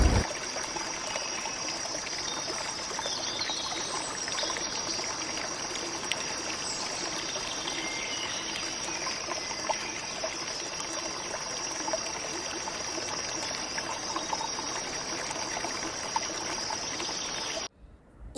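Steady, broad rush of the Bambarakiri waterfall near Riverston, flowing water roaring continuously and close, alone without talk for about eighteen seconds before cutting off.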